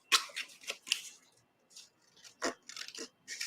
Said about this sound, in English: Actually, that needs to stay. Oh, I'm cutting that off.